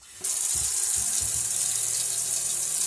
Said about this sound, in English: If I turn the tap on,